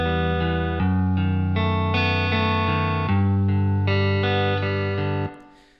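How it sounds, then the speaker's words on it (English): An electric guitar played through a Fender Twin amp with its built-in spring reverb rings out in sustained, layered chords that shift every second or so, full and loud, then fades into a reverb tail. "So we are using the built-in reverb in the guitar amp to create some dimension from this as well."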